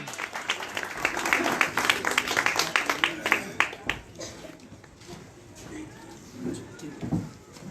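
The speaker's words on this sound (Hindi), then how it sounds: "जोरदार ताली बजाएंगे" A church congregation applauds loudly, a burst of dense clapping for about four seconds that then fades into scattered claps, with a voice speaking over the tail.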